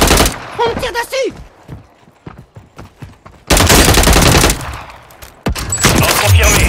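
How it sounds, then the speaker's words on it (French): Gunfire in the video game Warzone: a dense burst of shots up front with spoken voices, a run of separate sharp cracks, then loud sustained shooting and commotion toward the end. "On me tire dessus!"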